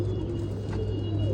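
Low, soft pigeon coos from a group of fourteen birds of the same kind kept in a coop, a steady murmuring hum that continues without a break and without any voices.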